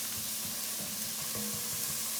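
Oil and flour cook in a pan as the base for a green chili sauce, giving a steady, close frying sizzle with soft bubbling that carries on unbroken throughout.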